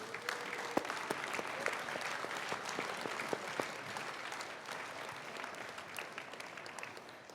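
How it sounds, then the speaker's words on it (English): Parents and families in the stands at a town-wide school music festival get a sustained round of applause from the crowd, with individual claps popping out above a steady, moderately quiet wash. "So I would like you to give them a round of applause right now."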